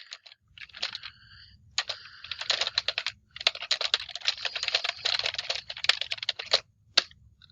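Bursts of rapid typing on a computer keyboard, fairly close and clear, with irregular clusters of keystrokes and short pauses between runs, ending with a single isolated tap; no voices.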